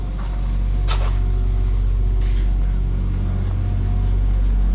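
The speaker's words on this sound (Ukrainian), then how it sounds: "О, стяжечна машина." A diesel floor screed machine runs on a residential building site, a steady loud low engine drone throughout, close, with faint clanks on top and no talking.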